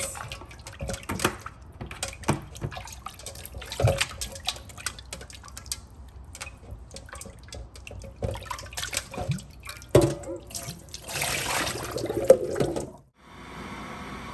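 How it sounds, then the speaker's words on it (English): Running water rinsing raw salmon with vinegar at a kitchen sink, a steady splashing flow broken by drips and brief clatters, ending in a sudden cutoff near the end. "So now I'm gonna wash my salmon."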